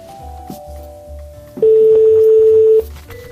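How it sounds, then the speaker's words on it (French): A telephone call being placed: a few soft low pulses, then one loud steady ringback tone held for over a second before fading back to quieter pulsing. "C'est un retour plateau et nous allons essayer de rappeler Toumax"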